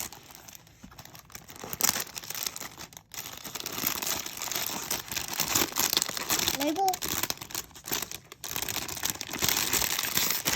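Wrapping paper is torn and crumpled off a birthday present, with continuous loud crinkling and ripping for about ten seconds and a voice briefly heard among the rustle.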